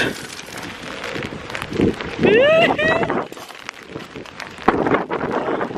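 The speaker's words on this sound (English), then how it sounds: "It's getting like really, really windy." Strong gusty wind rushes across a rainy cemetery, roaring steadily into the microphone with swelling gusts; a person's voice briefly rises with an exclamation partway through.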